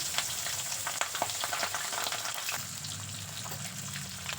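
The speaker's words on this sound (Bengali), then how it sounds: "কড়াইয়ে দেওয়ার সাথে সাথেই কীভাবে তেল ছিটকাচ্ছে আপনারা সেটা দেখতেই পাচ্ছেন" Pabda fish fry in a kadai of hot salted oil, giving a dense, continuous sizzle with sharp spattering crackles. The sound is close and steady with no talk.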